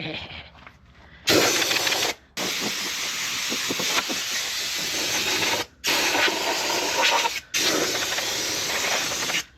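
A tractor tire is inflated with compressed air: loud, close, continuous hissing bursts that cut off briefly three times before resuming, with no speech.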